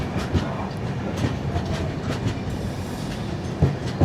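Mangala Express train rushing past a stopped Rajdhani Express at a crossing station, a steady near rumble of wheels with rhythmic clickety-clack over rail joints and occasional sharper clanks.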